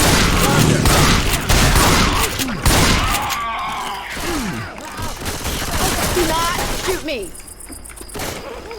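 Rapid gunfire bursts and overlapping shots ring out in a Left 4 Dead 2 zombie fight, dense and loud at first then thinning into scattered single shots, with voices talking over the action.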